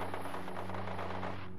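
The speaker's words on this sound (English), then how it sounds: "Why am I hearing gunfire?" Rapid bursts of gunfire crackle continuously over a steady electronic hum in the video game Steins;Gate 0, dense and fairly loud throughout.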